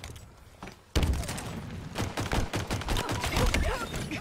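Pistol shots ring out in a video game, a sudden loud burst followed by a rapid, uneven string of sharp cracks and thuds that stays dense and close.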